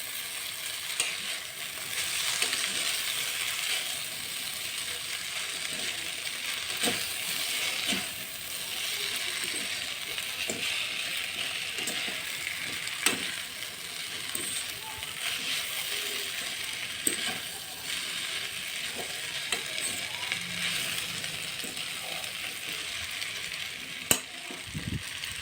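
Chow mein is tossed with two forks in a hot frying pan, giving a steady sizzle with scattered light metallic scrapes and clicks, close and moderate in volume.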